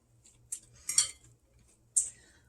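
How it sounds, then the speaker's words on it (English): A spoon stirs ingredients into a chicken and fruit salad in a bowl, giving a few faint, scattered clinks and scrapes against the dish, without any talk. "And we're going to stir that in."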